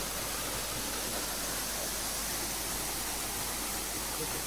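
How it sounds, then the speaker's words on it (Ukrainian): Steady, dense rush of a roughly 10-metre Carpathian waterfall filling the whole clip, loud and continuous with no breaks. "Мені подобається шум води, не знаю, я можу слухати її годинами."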